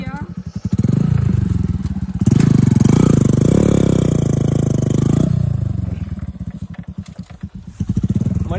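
A Bajaj Platina motorcycle revving hard in a higher gear, with a loud sustained engine drone rising and falling, close by, while someone talks before and after it.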